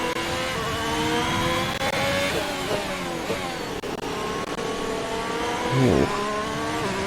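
Simulated Formula 1 car engine in F1 2021 racing through rain at the Netherlands circuit, loud high-pitched whine rising and falling through gear shifts, with a sharp downshift and rev burst near the end.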